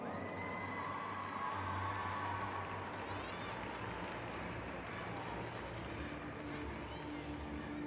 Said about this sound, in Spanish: Otro aplauso para Angelina Melnikova.